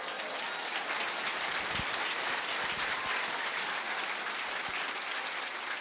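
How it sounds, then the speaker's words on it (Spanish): Church congregation applauding for Christ Jesus: dense, steady clapping from many hands that fills the whole stretch at an even level, with no voices heard. "Fuerte aplauso sa Cristo Jesus."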